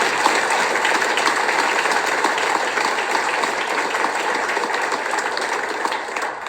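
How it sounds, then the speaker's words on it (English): A round of applause from the congregation at an interfaith Thanksgiving prayer service in San Francisco, steady dense clapping filling a large hall at a constant level with no voices over it. "Let's give them a round of applause."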